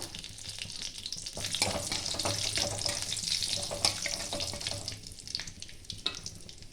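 Panch phoron, a dried red chili and a bay leaf crackle and sizzle in hot oil, a steady close frying hiss with scattered pops and light stirring scrapes, no voices.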